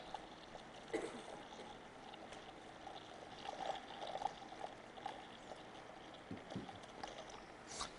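Baby diaper polymer material poured into water, a faint, soft trickling pour with small splashes over several seconds in a quiet room.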